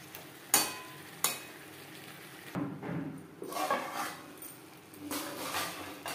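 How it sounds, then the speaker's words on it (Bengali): Potatoes and pointed gourd cooking with spices in a pan on medium flame, a soft steady sizzle broken by several sharp clinks of a spoon against the pan and scraping stirs. "মশলার সাথে আলু পটল রান্না করব মিডিয়াম ফ্লেমে।"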